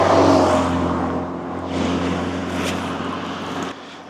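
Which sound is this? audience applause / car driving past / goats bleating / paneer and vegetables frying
car driving past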